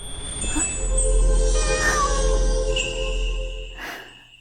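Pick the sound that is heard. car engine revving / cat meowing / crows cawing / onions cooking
cat meowing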